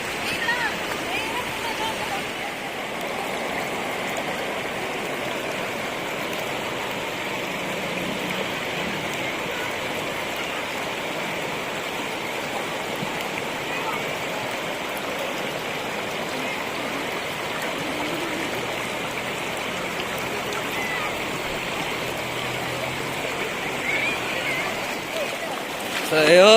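A river flows steadily at a riverside campsite in Tanay, Rizal, with a continuous broadband rush of water close by, while voices talk intermittently over it.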